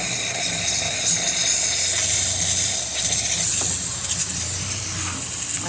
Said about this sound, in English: nice steady steam coming out of the machine, excellent pressure